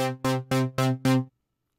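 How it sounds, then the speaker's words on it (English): A clocking synth with a saw-down LFO pulsing the filter, five evenly spaced buzzy tone pulses in quick succession, then silence. "This will create a pulsing and beating pattern, which is generated exclusively from the LFO."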